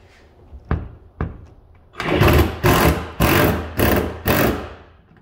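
A 10 mm bolt on a Chrysler Conquest rear hatch being tightened, with two sharp clicks followed by several loud, rapid bursts of ratchet or power-tool whirring close by, no talking.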